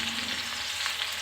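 Spices and ginger paste with salt, turmeric and chili powder fry in a pan, a short close burst of steady sizzling and crackle with no speech.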